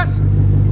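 A 2008 BMW 550i with a 4.8L V8 on straight pipes and an X pipe, its deep exhaust drone holding loud and steady through a brief rev.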